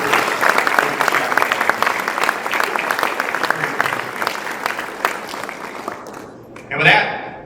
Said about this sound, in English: So I'd like to offer a round of applause for the spouses who are present today.